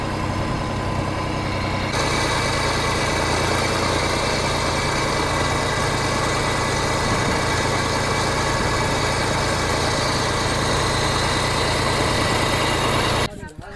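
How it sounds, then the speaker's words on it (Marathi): A fishing boat's engine drones steadily and loudly as the boat heads back to the jetty after a day of deep-sea prawn fishing in India. The hum runs unbroken throughout and cuts off abruptly at the very end. "चला आता आपली बोट जाईल ती म्हणजे जेटीवर."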